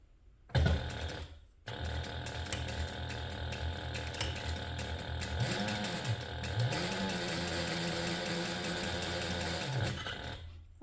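A sewing machine stitches tape onto a handbag in a close, loud, rapid mechanical whir with clattering needle beats. It starts with a short burst, pauses briefly, then runs steadily for about nine seconds before stopping.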